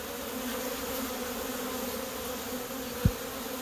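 A busy honey bee hive in Portland hums with a continuous, even buzz of many bees, drones among them, and one brief thump breaks in near the end.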